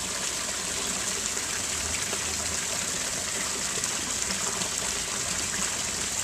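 Backyard pond waterfall with a steady, broadband rush of falling water, continuous and fairly close, with no voices over it.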